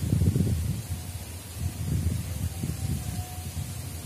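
Strong wind gusts through a plot of porang plants grown without shade, a continuous low rumbling roar with buffeting surges that rise and fall, close to the microphone, with no talking.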